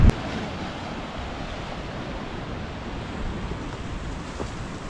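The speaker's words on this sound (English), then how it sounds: "hearing the waves crashing down below" Waves surge and break steadily below a coastal viewpoint on the Fundy Trail, a broad continuous roar of surf with some wind rumble, moderately loud and with no voices.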